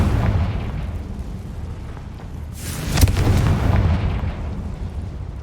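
A Confringo blasting spell explosion in Hogwarts Legacy: one loud booming blast with a sharp crack, rising whoosh and rumbling decay over a continuous low ambient hum, no talk.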